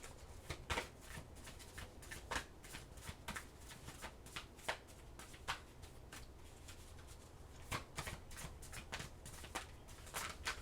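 Oracle cards shuffled and drawn from a deck for a Cancer reading, with repeated soft riffling and snapping flutters scattered across the whole stretch, fairly close and moderately loud, with no voice.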